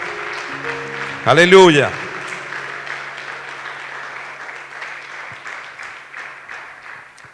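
Church congregation clapping throughout, moderately loud and steady, with a voice briefly shouting out near the start.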